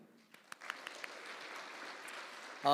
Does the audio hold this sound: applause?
yes